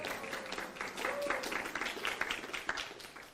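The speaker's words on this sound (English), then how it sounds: "Give her a big hand of applause." Listeners at a spiritual self-care talk give a round of fairly soft, scattered applause that swells briefly and then thins out, with some faint voices mixed in.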